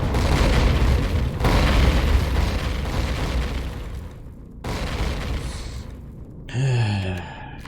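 Heavy booming explosions in the video game Empyrion Galactic Survival roar in long broadband bursts, rumbling loudly with short breaks between, followed by a sharper burst near the end.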